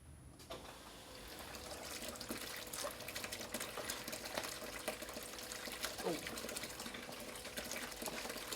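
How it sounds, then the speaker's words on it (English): A Johnson CM30 pump pushes water through hoses in a steady, continuous watery rush with a faint mechanical hum underneath. The sound is close and stays even throughout. "We're going to fire up and see if it starts pumping."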